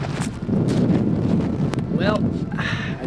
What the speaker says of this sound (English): It's so goddamn windy again.